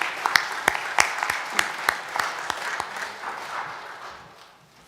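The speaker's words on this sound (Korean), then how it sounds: "우리 박수로 환영하겠습니다" A church congregation claps at a Sunday worship service to welcome visitors. About ten sharp, evenly spaced claps ring out over a soft, murmuring background, then fade away into quiet.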